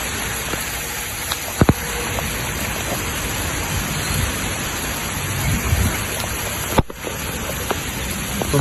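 Heavy rain pours down steadily during a flood in Batam, a dense continuous hiss with occasional sharper drip and splash hits standing out against the constant downpour.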